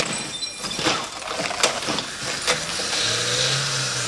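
A stunt car races out of an alley on its side, its engine revving with scraping and crashing impacts, fairly loud and close with several sharp bangs over a roaring, rising engine.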